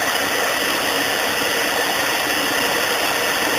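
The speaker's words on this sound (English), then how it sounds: "That's with the blow dryer on low, kick her up to high here." A blow dryer on its high setting forces air into a hot coal forge, a constant loud whooshing roar with a faint rattling hum throughout.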